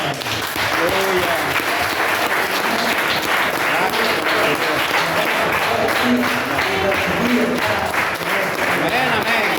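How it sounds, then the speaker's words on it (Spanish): A church congregation applauding during a service, continuous dense clapping sustained throughout, with voices calling out over it. "Démosle aplausos"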